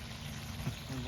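Water poured to rinse a cooking pot after chicken curry in a village kitchen, a brief, low, steady splash and trickle heard alone at close range.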